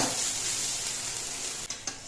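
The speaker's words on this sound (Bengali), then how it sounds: "এই খোসাগুলোকে ভেজে নিতে হবে চাল কুমড়োর খোসাগুলো কিন্তু ভাজা হতে একটু সময় লাগবে" A constant crackling sizzle of ash gourd peels frying in a pan, ending with two quick scrapes of a spatula.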